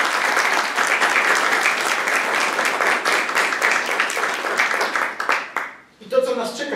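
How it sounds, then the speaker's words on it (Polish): Sustained applause from a crowd at a pro-life rally in Poland, dense and steady for several seconds, then tapering off as a voice starts to speak near the end. "Wielkie brawa dla tych wszystkich organizacji!"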